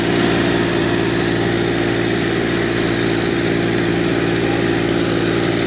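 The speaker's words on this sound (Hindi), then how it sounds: "देखिए किस प्रकार दहाड़ रहा है ट्रैक्टर, आवाज़ देखिए कितनी लाउड है इसकी।" A Massey 1035 40 HP tractor engine roars loudly and steadily under load while pulling a trolley, a close, continuous mechanical drone with no talk over it.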